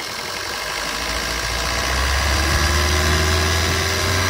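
A Maruti Swift Dzire VDi diesel engine idles steadily with a low rumbling drone, growing slightly louder and rougher partway through, with no voices.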